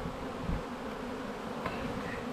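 Honeybees buzz steadily and close by inside an opened hive during a summer inspection in Alaska, a dense continuous drone with no speech.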